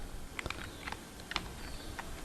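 Quick close clicks from a computer keyboard during HTML coding, a few scattered keystrokes and a firmer key press, quiet and without talk.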